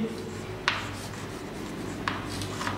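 Pen writing on paper, a few short scratchy strokes near the microphone over a steady low hum.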